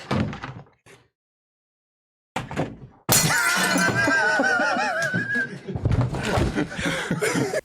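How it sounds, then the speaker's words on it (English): A plate of chopped carrots is slapped onto the floor with a sudden sharp crash, followed by loud laughter and voices, after some brief earlier clatter and a moment of silence. "Faux Extra slaps the plate of carrots on the floor"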